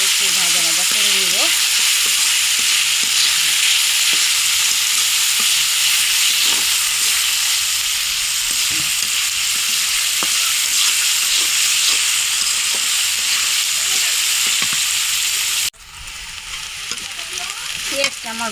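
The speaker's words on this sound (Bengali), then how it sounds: "এখন তেলটাকে আমি একটু পেঁয়াজটাকে ভালোভাবে একটু ভাজা ভাজা করে নিব।" Onions frying in hot oil in a home kitchen pan for a sea fish dish, a steady loud sizzle with occasional stirring scrapes, continuous and close throughout, dropping slightly in level near the end.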